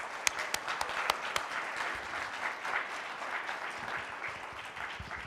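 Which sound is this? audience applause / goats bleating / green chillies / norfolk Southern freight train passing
audience applause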